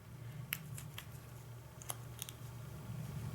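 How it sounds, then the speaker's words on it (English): Scissors snip through a small square of Velcro, giving a few faint, crisp cuts in quick bursts against a low, quiet background hum. "I am going to cut this little Velcro square and cut it again"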